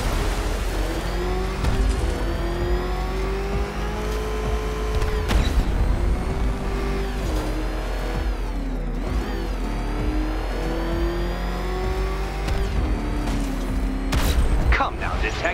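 Batmobile engine roaring at speed with afterburner in Batman Arkham Knight, a loud continuous revving drone with booming bursts and mechanical whirs, a voice talking over it throughout.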